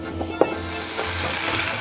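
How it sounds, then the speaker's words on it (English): Flour-dusted beef cube steak sears in a hot pan for beef stroganoff, a steady broadband sizzle with a few soft clicks and scrapes early on, close and fairly loud with no one talking. "I'm just going to use the flour to capture flavor as we pan sear it."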